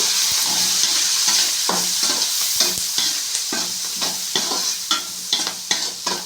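Potatoes with green chillies and turmeric sizzle and fry in a pan while a spoon stirs them, with a steady hiss under repeated scraping strokes and sharp clinks against the metal.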